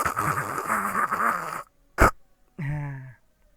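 After a stretch of speech, a person's voice imitates snoring with a short, sharp snorting burst and then a brief, drawn-out throaty rasp, heard close and fairly loud.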